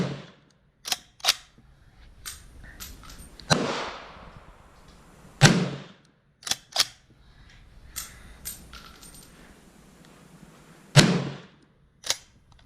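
A Swiss Schmidt-Rubin M1911 infantry rifle in 7.5x55mm fires several sharp, loud shots at uneven intervals, each followed by the clack and rattle of the straight-pull bolt cycling between rounds.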